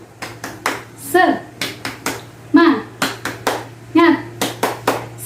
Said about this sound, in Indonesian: mari kita tepuk semangat terlebih dahulu ya